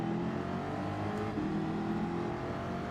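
Race cars in Gran Turismo 7 accelerate at Deep Forest, including an Alfa Romeo among a pack of WRXs, with a steady, loud engine drone and rising harmonic whine continuing throughout.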